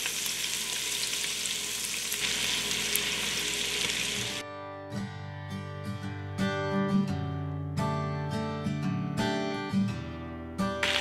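Butter melts and sizzles with bacon in a pot, a dense steady crackle that gives way to a looser, popping sizzle with stirring clinks, close and unbroken.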